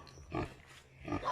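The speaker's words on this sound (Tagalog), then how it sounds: "Nanganak ang mga baboy ni ate!" A sow with her newborn piglets grunts in a few short, close snorts, with a faint high squeal near the end, heard alone and briefly.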